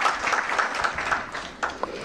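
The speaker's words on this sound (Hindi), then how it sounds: "जोरदार तालियों से स्वागत करिए उदय प्रकाश जी का" An audience welcomes the poet and writer Uday Prakash with steady, moderately loud applause that fills the room throughout, with a few sharper individual claps standing out.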